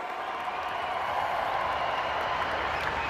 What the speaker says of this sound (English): can we please have a round of applause for these two fighters?